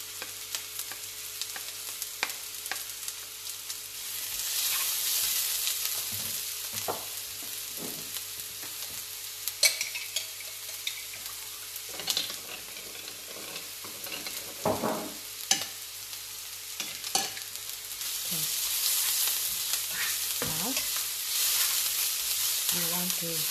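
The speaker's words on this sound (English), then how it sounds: "So you just want to soften this until they are almost done. And then I'm going to add in some garlic." Minced garlic and onion frying in a pan, with a moderate sizzle that swells and fades as a utensil stirs and taps intermittently, with no talking.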